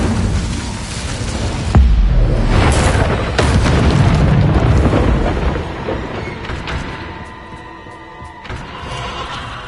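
Spell explosions in the Hogwarts Legacy video game, loud booming blasts and bursts that rumble and overlap for several seconds, then fade into a lighter metallic ringing tail.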